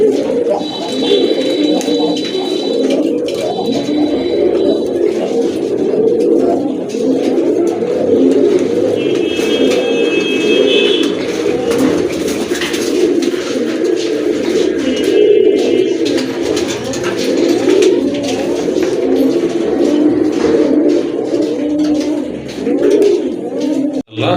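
Giribaz pigeons, among them a Chocolate Grizzle, coo in a dense, steady chorus close by, with brief high chirps breaking through now and then and no speech over them.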